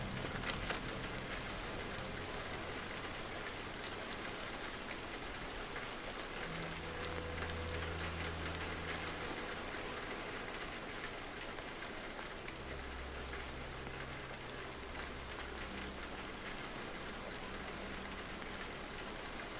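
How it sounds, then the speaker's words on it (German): Steady rain patters down in the video game The Land of Pain, a dense continuous hiss of drops with faint low rumbles underneath. "Aufprickelndes Regenwasser."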